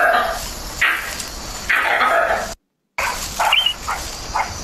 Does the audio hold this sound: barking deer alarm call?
yes